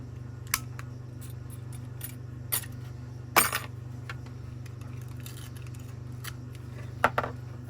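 Scissors snip at hair matted into a seized Henry Numatic Airo vacuum brush head, giving scattered sharp metallic clicks and snips over a quiet steady hum, with no talking.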